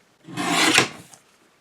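Scissors or a blade trimming a recycled Christmas card, one close, rasping cut of about half a second, heard alone.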